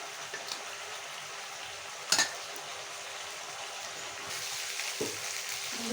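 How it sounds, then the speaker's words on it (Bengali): Pointed gourd pieces sautéing in spice masala in a pan, a quiet steady frying hiss with an occasional sharp clink of a spatula against the pan. "মশলার ভিতরে আমি কাঁকরোলগুলো দিয়ে ভালো করে কষিয়ে নেব।"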